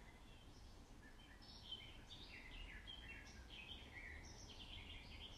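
Faint, distant bird calls and chirps scattered over a low, steady background hum, with no talking.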